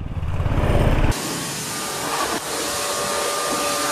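Motorcycle being cleaned at a bike wash centre: a loud, steady machine hum with a low rumble gives way to a broad, continuous spray-like hiss, close and unbroken, with no talking.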